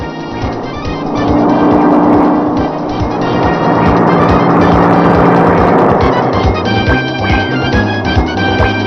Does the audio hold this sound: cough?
no